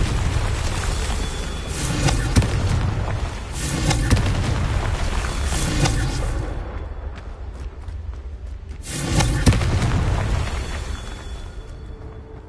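Confringo fire spell explosions in Hogwarts Legacy, several heavy booming blasts with deep rumbling tails, spaced a few seconds apart, loud and close over continuous game background.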